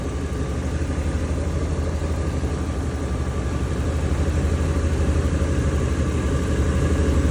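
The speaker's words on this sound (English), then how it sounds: "So I got my vehicle running." Ford 5.4-liter Super Duty truck engine idling steadily nearby, a continuous low rumble that holds even and loud for the whole stretch with no talk over it.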